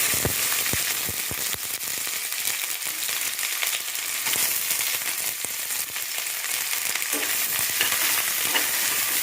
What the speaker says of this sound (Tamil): கடுகு பொரிஞ்சதுக்கப்புறம் நம்ம வந்து இந்த நீளமாக கட் பண்ணி வச்சுக்கிற இந்த வெங்காயத்தை போட்டுக்கலாம்